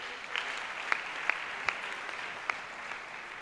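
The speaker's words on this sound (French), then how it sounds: "On peut acclamer la parole de Dieu." A congregation claps at a church worship service, light rhythmic applause with several sharper individual claps standing out, moderately distant and steady for a few seconds.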